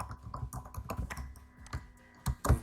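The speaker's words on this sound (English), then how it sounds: "We'll type Nigeria." Typing on a computer keyboard while entering text in CorelDRAW: a quick, uneven run of close, crisp key taps, ending in two louder strikes.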